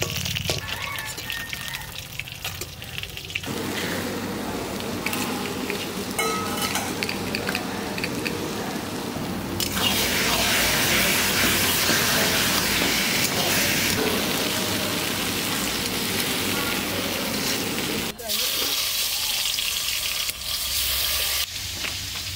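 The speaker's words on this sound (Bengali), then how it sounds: "লাল লাল করে মাছ করা ভাজা করছি।" Shol fish fries in hot oil in a pan in a village-style kitchen, a loud, continuous sizzle that swells into a dense crackling hiss partway through and briefly cuts out near the end.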